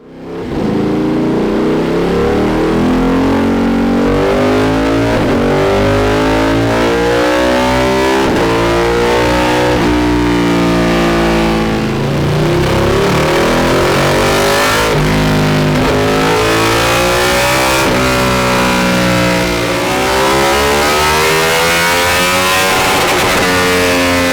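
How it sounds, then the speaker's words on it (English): A Ducati 1199 Panigale motorcycle with modifications roars steadily on a dyno, its engine revving loud and close in rising and falling sweeps for the whole stretch, with no talk over it. "get it run up on the dyno, see what this bike with these particular mods is doing"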